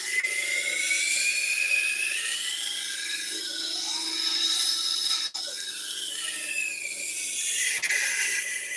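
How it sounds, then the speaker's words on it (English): Tormek wet grinder sharpening a knife, a steady close whirring grind with shifting scraping tones as the blade moves across the wheel, continuous and fairly loud without talk. "you just move the knife and sharpen the other side"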